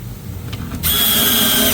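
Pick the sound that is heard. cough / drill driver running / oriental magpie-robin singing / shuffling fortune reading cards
drill driver running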